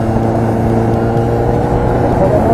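Steady motorcycle engine drone while riding slowly with light throttle, weaving gently side to side, loud and close with a constant low hum and little change in pitch.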